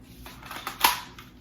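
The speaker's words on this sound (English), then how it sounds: "So we're gonna go ahead and load up and shoot one shot and see what it does." A single shot from a full-auto capable BB gun firing 1.77 BBs indoors: one short, sharp crack, fairly faint and alone, rising briefly above a quiet room background before fading.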